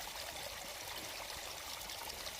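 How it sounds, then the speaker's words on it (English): A creek flowing across a hiking trail on the Pinhoti Trail in spring, a steady close rush and trickle of running water filling the scene with no voices. "It's our first creek crossing that we've passed."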